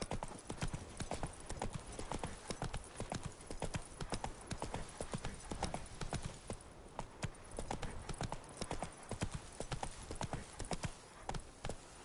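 A horse gallops in The Witcher 3 video game, its rapid clip-clop hoofbeats drumming in a steady, close rhythm for the whole stretch, with a brief quieter patch midway.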